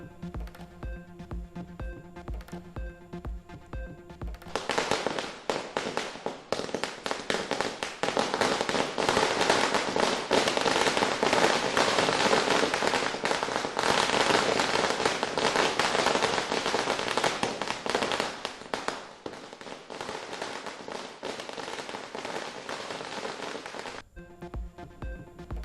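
A long string of Diwali firecrackers, sarams and other crackers in Chennai streets, rattles off in a dense, continuous crackling burst for about twenty seconds, with scattered separate pops before and after.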